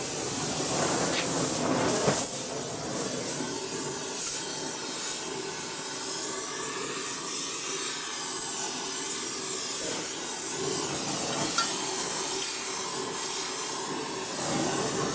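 A torch flame heats the case of a custom Harley 143ci Evo Ultima engine, giving a steady, loud broadband hiss and roar that runs unbroken for the whole stretch with no talk over it.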